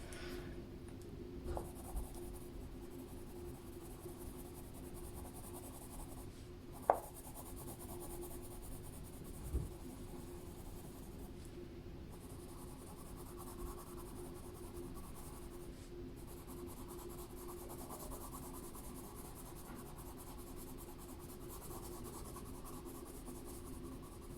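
A colored pencil scratches and rubs across paper in a coloring book in long, quiet, continuous strokes, with a few soft taps and no talk.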